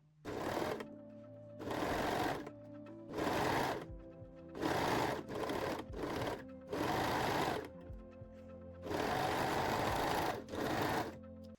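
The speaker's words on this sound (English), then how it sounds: "And sew the seam." A sewing machine stitches a seam on a pair of high-waist panties in a series of short, loud, close bursts, about eight runs separated by brief pauses.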